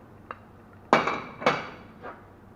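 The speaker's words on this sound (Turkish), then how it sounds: "Evet arkadaşlar çorbamızın tüm malzemelerini suyun içerisine bu şekilde boşaltıyoruz." Chopped onions, carrots, zucchini, potatoes, broccoli and spinach for a green detox soup tipped into a pot of water, giving two louder clattering thuds with a splashy tail and a few softer knocks around them.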